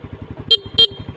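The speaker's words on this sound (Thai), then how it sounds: "โอ้โห แตรดัง" Honda Dream 125 motorcycle horn giving two short, loud, bright honks over the steady puttering beat of the idling engine close by.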